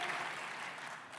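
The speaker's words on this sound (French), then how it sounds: "On peut vraiment l'applaudir bien fort" Audience applause for a speaker at a 2018 Coop de France congress, a brief, steady wash of clapping from a crowd at moderate volume.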